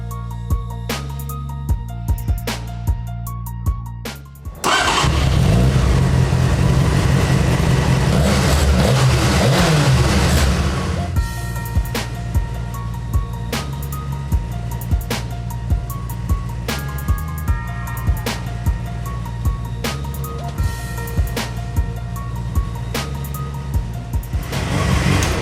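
Motorcycle engine running after a Suprotec oil additive was poured in. It idles steadily, then gives a loud, sustained rev of several seconds and drops back to an even idle, close up, with no talking.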